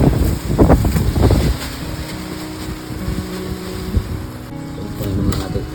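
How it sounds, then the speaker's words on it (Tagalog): Strong wind ahead of coming rain buffets the microphone in heavy low gusts, loudest in the first second and a half, then settles into a steady roar with a faint engine-like hum. "Ngayon ay malakas ang hangin dahil paparating na naman yung ulan."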